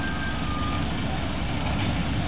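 A truck reverses near a ship port during a typhoon, its engine a steady broad rumble with a faint tonal beep early on, masked by heavy wind and background noise.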